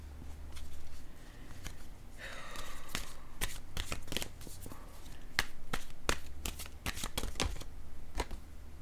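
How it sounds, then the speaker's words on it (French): Oracle cards are shuffled and drawn by hand, giving quick crisp riffling bursts and sharp card snaps at close range, with a faint trace of speech. "Je vais piger maintenant une carte, un message de l'univers pour cette personne."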